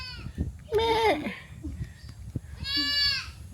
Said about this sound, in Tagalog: Ito. Kambing sila dito.